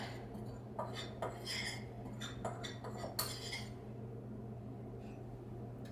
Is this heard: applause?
no